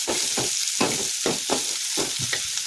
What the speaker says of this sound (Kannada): ಎಣ್ಣೆಯಲ್ಲಿ ಚೆನ್ನಾಗಿ ಈರುಳ್ಳಿ ಎಲ್ಲ ಕೆಂಪಾಗಿ ಬರಬೇಕು